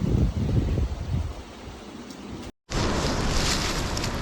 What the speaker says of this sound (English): The wind is not showing any signs of dying down soon.